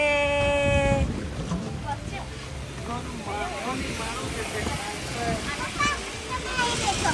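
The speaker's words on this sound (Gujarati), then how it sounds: "તો અમે એટલા માટે બોટિંગ માટે નીકળ્યા." A boat ride on the Alleppey backwaters carries a steady engine drone and rushing water and wind noise throughout, with people talking over it and a brief tonal sound at the start.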